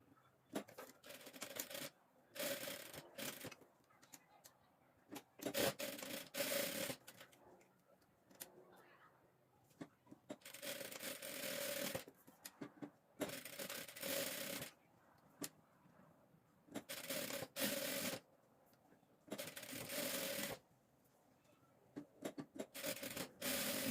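Sewing machine joining rectangular and square fabric scraps for a rug, running in short bursts of stitching with quiet pauses between, soft whirring and rubbing, moderately close.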